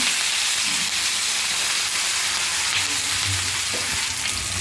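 Chillies fry with radhuni and garlic in hot oil in a pan for a foloi fish and water lily stem curry, a loud, steady crackling sizzle with faint stirring throughout.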